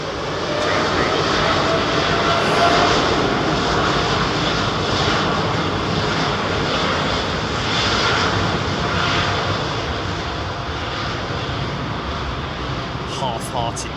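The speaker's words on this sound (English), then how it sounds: "Clear takeoff, runway 27 right." An airliner on its takeoff roll from runway 27 right at London Heathrow, a loud sustained jet engine roar that swells and holds across the whole span, close and powerful, with a voice speaking over it.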